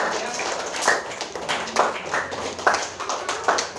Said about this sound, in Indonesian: Ya semua kasih dulu aplaus ya